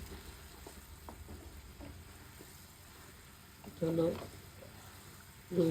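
Rohu fish cooking in oil with kachri and methi: a faint, steady sizzle with light clicks, joined near the end by brief voice-like sounds.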